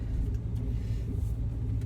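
A 2001 Toyota Avalon with a failing transmission drives along, giving a steady low engine and road rumble that stays loud and even throughout with no talking.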